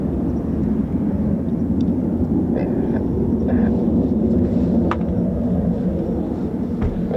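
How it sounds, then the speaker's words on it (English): Eurofighter Typhoon FGR4 jets taxiing at an RAF base, a steady low turbine roar from a distance that stays even throughout with a few faint clicks, no speech. "Typhoons just taxiing from the south side of the base"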